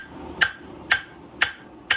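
Hammer blows on metal while forging a knife: four sharp, ringing strikes at an even, steady pace, loud and close with no talking.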